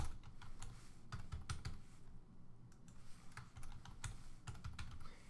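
Quiet, close clicking on a computer keyboard as a password is typed, uneven bursts of keystrokes with a short pause in the middle.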